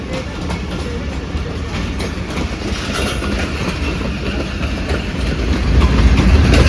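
The 2 Down Khyber Mail passes behind locomotive GU40 9042, hauling green-livery coaches: a continuous rumbling clickety-clack of wheels on rails that swells louder toward the end, with no talk over it.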